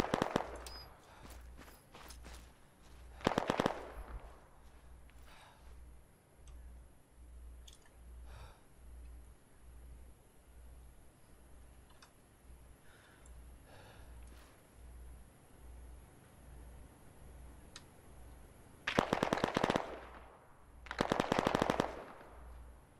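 In the military shooter game Arma 3, loud bursts of machine gun fire rattle near the start and again near the end, separated by a long stretch of quieter distant shots, soft thuds and a pulsing low background hum, no talking.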